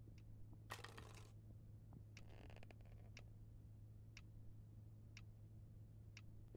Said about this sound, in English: Why are there clocks?